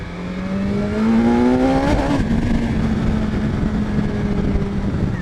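A motorcycle with a quick shifter revs hard and climbs in pitch, then drops sharply at a gear change before holding a loud, steady engine note close by.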